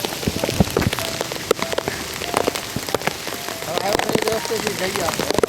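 Heavy monsoon rain pouring outdoors at a hill viewpoint, a dense steady hiss of drops on surfaces close by, with a faint voice underneath.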